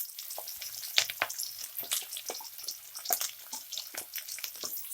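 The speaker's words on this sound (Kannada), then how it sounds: "ಹೆಚ್ಚಿಟ್ಕೊಂಡಿರೋ ಶುಂಠಿ, ಬೆಳ್ಳುಳ್ಳಿ ಮತ್ತು ಹಸಿಮೆಣಸಿನ್ಕಾಯಿನ ಹಾಕ್ತಾ ಇದ್ದೀನಿ." Chopped ginger, garlic and green chilies hit about two tablespoons of hot oil for veg noodles, crackling and spitting in sharp irregular pops with a steady sizzle beneath, close and fairly quiet.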